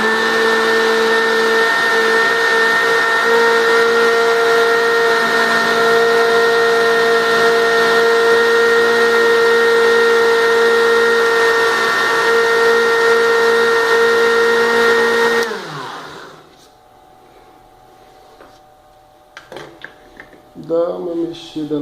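A kitchen blender whirs steadily and loudly for about fifteen seconds, blending strawberry protein pudding with peanut butter, then cuts off abruptly, followed by quieter clinks and handling noises.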